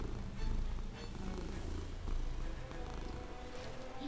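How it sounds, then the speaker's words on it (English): A cat purrs in a close, continuous low rumble, sitting under fighting-game sound effects with no talk. "You should hear the purring coming up in, guys."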